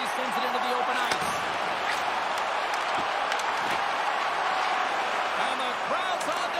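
Arena crowd in the ice hockey game NHL 26 cheers and applauds steadily for ZSC Lions vs HC Lugano in the Swiss National League, a dense continuous roar running beneath a commentator's voice.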